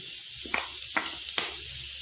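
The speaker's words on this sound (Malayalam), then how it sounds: "ഇനി ഇതിലേക്ക് നമുക്ക് ക്യാബേജ് ഇട്ട് കൊടുക്കാം." Soft sizzling as cabbage goes into a hot pan for a Spanish omelette, with three brief crackling bursts of frying over a quiet background hiss.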